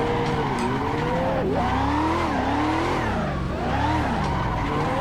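A Mazda Miata drifting in the Assetto Corsa racing game, played in VR, gives a loud engine that revs and falls while tires squeal in long, wavering drifts without a break.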